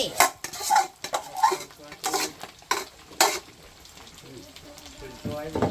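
A spatula clatters and scrapes through food frying in a pan in a run of sharp, uneven strokes over a sizzling bed, close by, and the sounds thin out toward the end.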